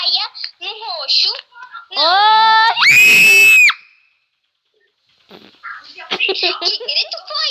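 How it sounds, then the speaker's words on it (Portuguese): A person screams loudly for about two seconds: a rising, piercing, sustained cry at close range. Excited talk and squeals come before it, there is a short silence after, and then talking starts again. "Que grito foi esse?"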